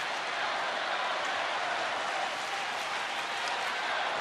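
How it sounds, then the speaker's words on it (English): Steady roar of a baseball crowd cheering for the Rangers at a Texas ballpark during a Red Sox game, a dense, continuous wash of applause and voices holding at even loudness throughout. "And the crowd all into it for the Rangers."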